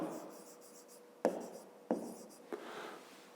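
A pen scratches on paper during a fifth-grade math exercise, with a soft writing sound broken by a few sharp taps or strokes, close and quiet.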